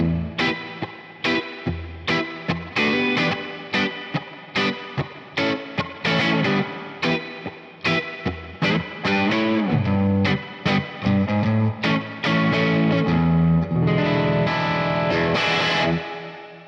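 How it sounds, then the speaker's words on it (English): Electric guitar played through an FM3 Deluxe Reverb amp model with spring reverb, loud picked chords and notes in rhythmic bursts with reverb tails, alone without talk. "I've really been liking this Deluxe reverb amp model with the Deluxe Springverb Spring Reverb type"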